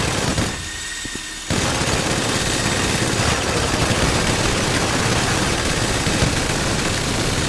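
Gunfire in the video game GTA 5 Online, with dense, loud bursts of shots that fill nearly the whole stretch after a brief dip near the start, continuous and without talk.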